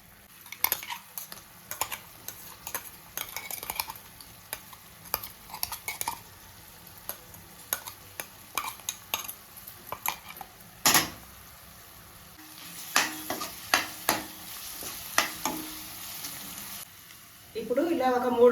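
Onions frying in a pan with ginger, garlic and green chili paste, heard as soft sizzling under repeated sharp scrapes and taps of a stirring spoon against the pan, with pauses between bursts.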